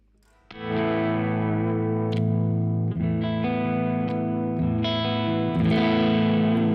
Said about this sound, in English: Have a little bit of natural overdrive from the amp itself